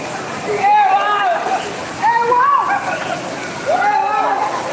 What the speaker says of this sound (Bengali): তাহির বৃষ্টিতে নামার জন্য বৃষ্টির পানিতে ভেজার জন্য বেকুল হয়ে গেছে